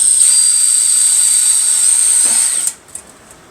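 A power drill whines at a high steady pitch while boring a pilot hole into a metal stove, then the motor cuts out and winds down, followed by a few faint clicks.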